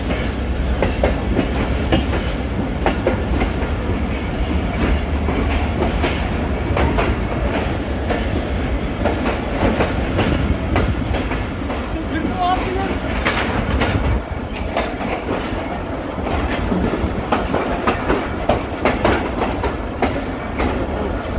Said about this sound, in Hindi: Twenty eight down Shalimar express platform number 8 पर हो रही है सेटल।